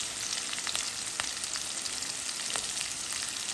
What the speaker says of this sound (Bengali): একসাথে ভেজে নিব পেঁয়াজের সাথে।